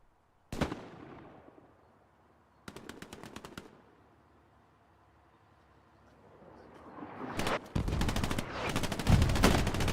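Shotgun and rapid gunfire in the World War II video game Hell Let Loose: separate bursts of shots with quiet gaps, growing into heavy, loud, continuous firing toward the end.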